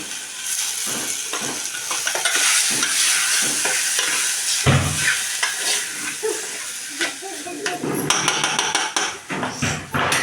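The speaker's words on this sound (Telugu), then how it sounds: "ఇప్పుడైతే నేను సబ్జీలు అయితే వేయించుకుంటున్నాను" Vegetables frying in a pan on a home stove, a continuous sizzle broken by repeated stirring and scraping, with sharp metallic knocks of a utensil against the pan.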